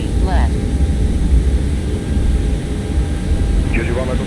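Airbus A320neo engines at takeoff thrust on the runway, a steady broad roar that holds even throughout, with brief radio-like speech bursts near the start and end.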